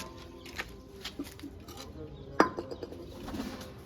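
Pigeons cooing faintly nearby, with soft calls, a brief sharp clack, and light outdoor background noise.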